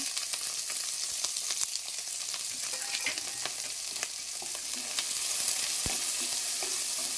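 Onion and green chillies fry in a pan with mustard seeds and curry leaves, giving a steady close hiss and sizzle with occasional small pops and stirring clicks, and no voices.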